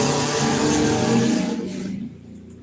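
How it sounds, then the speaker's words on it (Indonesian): An odong-odong novelty ride car passes by outside, a broad engine roar that holds steady and then fades quickly as the vehicle moves away. "Suara mobil lewat."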